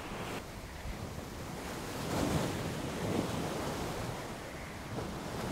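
Sea waves roar steadily on the shore of a Konkan fishing village, a broad continuous wash mixed with wind buffeting the microphone, swelling slightly midway, with no voices.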